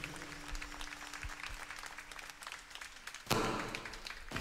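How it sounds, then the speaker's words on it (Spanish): Concert crowd at a Los Angeles convention center applauds a priest, a soft diffuse wash of distant clapping with a low steady hum beneath, then a sudden thump and a louder surge of noise near the end. "otro aplauso fuerte por el esfuerzo tan hermoso de compartir con nosotros"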